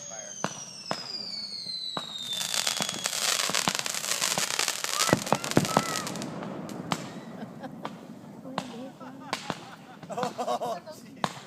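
Fireworks in Carnation whistle upward, then erupt in loud bursts and sharp crackling reports at close range, with scattered pops continuing and people exclaiming over the noise.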